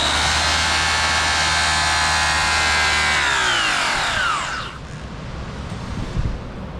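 A motorized polishing brick buffs a 24-year-old BBS LM wheel, a loud steady high whine that winds down in pitch as the tool spins down, leaving a faint rustle afterward.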